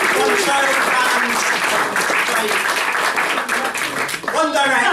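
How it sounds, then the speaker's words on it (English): A live audience at a microtalks event claps, dense and loud, holding steady for several seconds, with a voice talking over it toward the end. "I want another great big round of applause for him"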